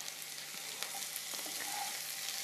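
Two large chopped tomatoes tipped into browned onions frying in a pan for chicken mulakittathu, a soft steady sizzle with faint clinks, quiet and close, no speech.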